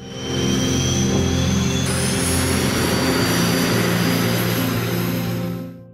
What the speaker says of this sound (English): The first engine integration test with Bayraktar KIZILELMA's first prototype